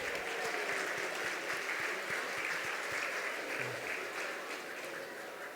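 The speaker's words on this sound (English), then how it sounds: "Let's give them another round of applause." Applause from a gala audience for a jazz quartet, a dense steady wash of clapping at moderate distance with faint crowd murmur and low thumps beneath.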